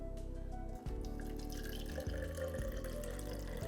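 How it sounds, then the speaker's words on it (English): Water poured from a container onto superabsorbent polymer granules, giving a steady close-up splashing and trickling pour that runs continuously with a brief break near the start. "And I'm going to add 200 ml of water"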